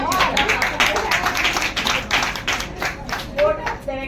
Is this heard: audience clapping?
yes